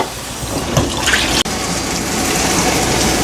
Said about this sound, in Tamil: இதுக்கு தேவையான தண்ணி போட்டுட்டு மூடி விட போகிறேன்.